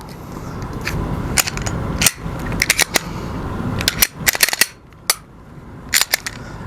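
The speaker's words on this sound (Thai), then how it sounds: "ปืนผมเคลียร์แล้วนะครับแต่เคลียร์รอบหนึ่งนะครับ" A Glock 19 Gen 5 pistol is cleared and handled, giving a string of sharp, close metallic clicks and clacks from the slide and parts, irregularly spaced with brief quiet gaps.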